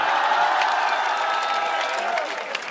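Applause and cheering from a college audience at a talk, a dense, steady wash of clapping and crowd noise lasting throughout, loud and close without a break.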